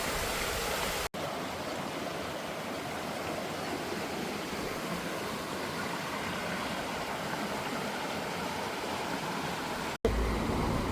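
Mountain trout stream torrent flowing over rocks and woody debris: a loud, continuous broadband rush of water, close and steady, with two brief cuts in the sound.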